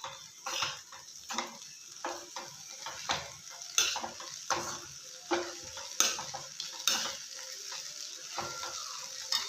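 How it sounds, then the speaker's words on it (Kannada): Poha being stirred and heated in a hot oiled pan, a soft sizzle punctuated by a regular rhythm of spatula scrapes and taps against the pan, close and without speech. "ಹಾಗೆ ಕೈಡಿಸ್ತಾ ಇರಬೇಕು ಬಿಸಿ ಆಗುವವರೆಗೆ"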